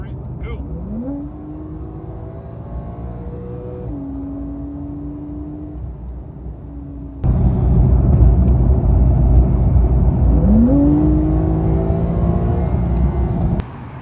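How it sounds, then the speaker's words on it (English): A Porsche 911 Carrera S engine revs up twice in sport mode with rising pitch, the second burst louder and rumbling, heard close by over a steady idle. "So I think this car might have a valved exhaust."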